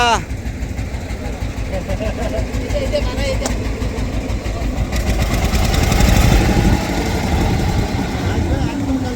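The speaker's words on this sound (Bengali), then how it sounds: "ট্রলার তারা একটু চালিয়ে চেক করুক" A trawler boat's engine runs for a check, a loud low chugging drone that rises and thickens partway through, with someone talking over it.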